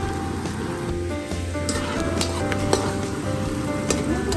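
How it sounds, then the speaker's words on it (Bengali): Onions fry in hot oil in a pot for shrimp biryani, giving a loud, steady sizzle close up with occasional stirring scrapes and no talk. "এখানে পেঁয়াজটা ভাজা করা হচ্ছে"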